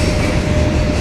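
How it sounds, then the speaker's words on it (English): A train passes at night, heard from a bicycle during a night commute, as a dense, steady rumble with a broad wash of noise that stays loud and close throughout the short moment. "Train! I don't think I can really see it, but there it goes."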